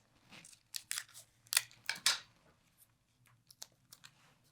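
Scissors snipping through printed PDF sewing pattern paper, a run of crisp crunching cuts close by with short rustles of the sheet between them, no talking.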